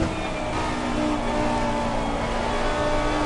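Lamborghini Huracán Super Trofeo V10 race car in Assetto Corsa Competizione, a steady loud engine drone with sustained harmonic tones throughout, heard from the pit lane with no talk.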